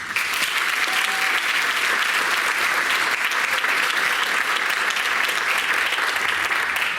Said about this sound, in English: How about a round of applause for all our award winners?